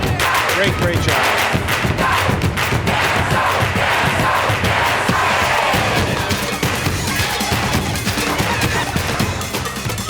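A crowd applauds and cheers at an ice skating show, with dense, continuous clapping and shouts filling the arena for about ten seconds without letting up.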